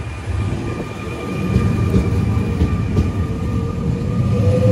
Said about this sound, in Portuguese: O comboio saindo aqui, ó.